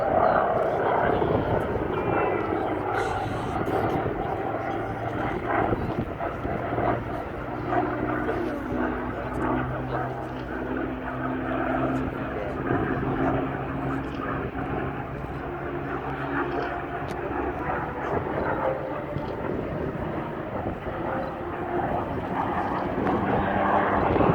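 A Spitfire fighter at the Southport Air Show drones on continuously at moderate loudness, a broad engine roar sustained throughout, with a voice talking over it.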